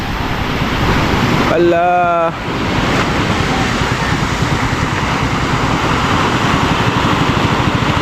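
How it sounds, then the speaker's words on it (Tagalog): Strong ocean waves break on the shore in a loud, continuous roar mixed with wind buffeting the microphone. A voice briefly calls out partway through. "Malakas talaga yung alon."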